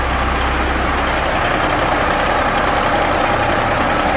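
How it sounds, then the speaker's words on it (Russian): A truck engine idles steadily, a continuous low rumble with a throbbing mechanical drone that holds constant and close throughout. "Мотор работает четко вообще."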